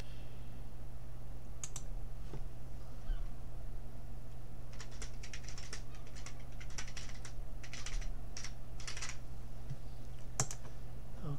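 Someone types on a computer keyboard while setting up an eBay account, with scattered bursts of quick, close key clicks over a steady low hum, busiest through the middle of the stretch.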